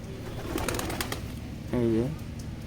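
Pigeons coo close by on a cloudy day, wild and domestic birds including a Sirazi, with one clear rolling coo near the end over a busy rustling outdoor background.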